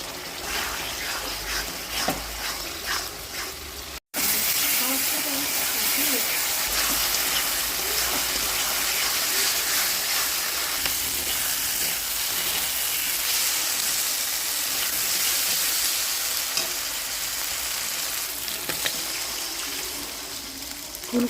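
A pan of cauliflower and potato curry with ginger, cumin and tomato paste simmers in water, giving a steady, loud hiss of bubbling and steam that runs unbroken throughout.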